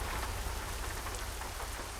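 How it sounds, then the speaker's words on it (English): Steady rain falling outside, a dense, continuous hiss of drops on surfaces with a faint rumble of distant thunder underneath, heard alone with no talking. "Uh-oh, it's raining."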